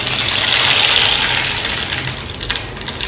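Mustard seeds crackle in hot oil under a loud, constant sizzling hiss, with a few scattered pops toward the end.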